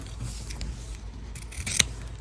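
Scissors cut fabric off a sewing project with a few soft snips up close, ending in a sharper metallic snip, faint against a quiet room.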